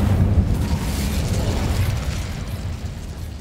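Incendio, a fire spell in Hogwarts Legacy, erupts in a loud burst of roaring flame that starts strongest and slowly tapers off, a continuous crackling rumble with no talking.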